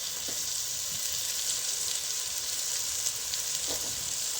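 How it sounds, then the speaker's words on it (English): Chicken pieces fry with tomato in a pot, giving a steady, close hiss and sizzle that runs unbroken throughout with no talking. "So now I'll place my chicken here to fry with the tomato."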